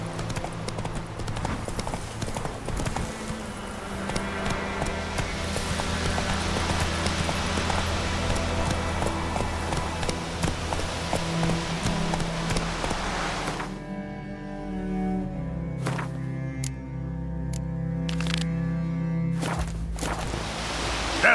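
Roach, a horse in The Witcher 3: Wild Hunt, runs with fast rhythmic hoof clip-clop over a steady game music bed for about fourteen seconds, then the hooves drop out, leaving sparse sounds and music.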